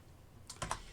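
A few quick, soft keystrokes tap on a computer keyboard, a faint cluster of clicks over near silence.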